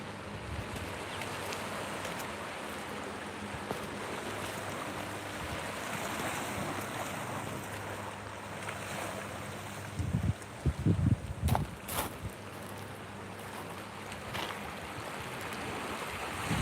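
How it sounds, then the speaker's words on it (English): Ocean surf washes onto the beach by Morito Shrine in Kamakura, Japan: a continuous wash of waves with gusts of wind buffeting the microphone and a brief burst of closer noise partway through, with no voices. "you can enjoy the surf"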